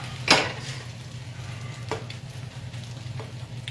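A chicken, vegetable, barley and bulgur mixture is flipped in a frying pan, landing with one sharp thud and clatter, followed by a steady, moderate sizzle and a few light scrapes.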